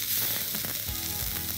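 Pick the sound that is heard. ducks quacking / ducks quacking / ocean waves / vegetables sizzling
vegetables sizzling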